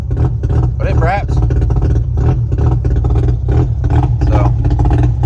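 A Mazda RX-7 rotary engine revs under quick throttle blips while running lean, a loud close rasping drone under someone talking over it.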